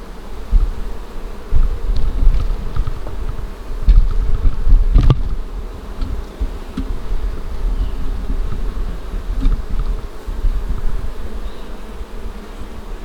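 Honey bees buzz around an open beehive during a swarm check, a loud, dense, continuous drone close to the mic with a few faint knocks.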